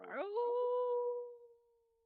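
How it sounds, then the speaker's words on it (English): A single long howl rises in pitch, then holds a steady mournful tone before slowly fading away. "The wolf howls"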